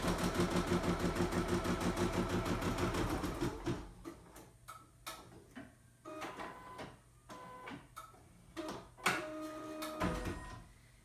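An embroidery machine stitches the first thread color onto stabilizer held in a hoop, a dense rapid mechanical chatter for the opening few seconds, then giving way to scattered clicks, taps and handling noises.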